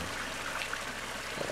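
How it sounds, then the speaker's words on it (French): A small waterfall pours into a garden pond basin fed from a lower third basin, giving a soft, steady trickle and splash that stays fairly quiet and constant. "La cascade de droite, l'eau arrive du bas"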